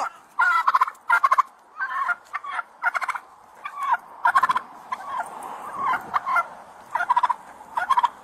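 An aggressive flock of poultry mobs a Florida deputy outdoors, letting out repeated bursts of harsh, close-up clucking and gobbling squawks in an uneven rhythm over several seconds, with short quiet pauses and no voices.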